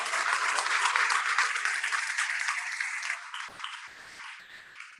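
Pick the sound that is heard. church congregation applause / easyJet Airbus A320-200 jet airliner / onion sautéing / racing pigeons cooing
church congregation applause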